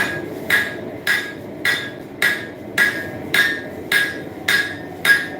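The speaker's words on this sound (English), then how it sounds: "I'm going to start forging out my bevels. So, I'm going to throw that on the floor and grab another hammer." A hammer forges knife bevels from a horseshoe in a regular rhythm of about nine sharp, ringing metallic blows over five seconds, each evenly spaced, close and loud, with no talking.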